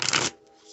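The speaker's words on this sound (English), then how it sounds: "Give this a good shuffle." A quick burst of tarot cards being shuffled, a crisp riffling rush lasting a fraction of a second, then near quiet.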